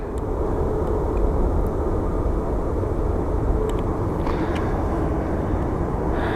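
United Airlines airliner taking off at Phoenix Sky Harbor airport, heard as a steady, broad, rumbling roar of jet engines that stays loud and constant throughout, with no talking.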